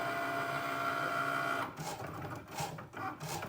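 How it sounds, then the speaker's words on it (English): A Cricut Maker machine starts cutting leather for a travelers notebook: a steady mechanical hum gives way to uneven whirring and stepping motor bursts as the tool carriage moves, close and fairly loud with no talking. "And then it's going to start cutting."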